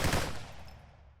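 A loud burst of gunfire from a firefight in the video game YouWillRot, opening sharply and then trailing off into a fading echo.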